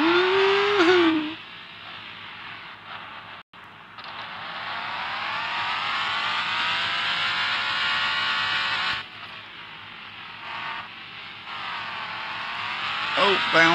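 A rat rod crawler truck in the off-road game Offroad Outlaws drives and drifts, its engine revving in a long rising and falling whine with a brief cut, while someone talks over it.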